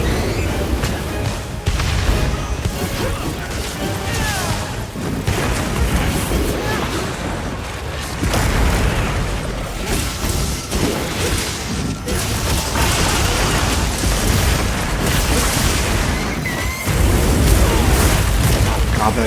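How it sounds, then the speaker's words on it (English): Explosions from the video game Monster Hunter Wilds, a run of heavy booms and bursts layered over dense, continuous game noise at high volume. "that explosion is so damaging"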